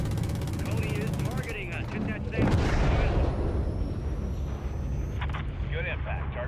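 A missile impact explosion in the video game Modern Warfare 3, a broad loud blast that swells in the middle of the clip over constant battle noise, with game radio chatter around it.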